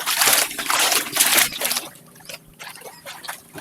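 A stream trickles and splashes near a mountain viewpoint on Borawan Island in Quezon, with bursts of rushing water that fade to softer gurgling.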